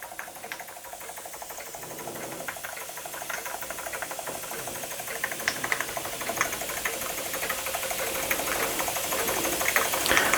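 A Jensen 25 model steam engine with cast-iron castings runs steadily, giving a fast, even mechanical clatter and knocking that grows slightly louder, with no voices.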